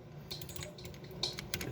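Computer keyboard being typed on during a Roblox session on PC, quick, quiet clicking keystrokes in short clustered bursts, close by and alone.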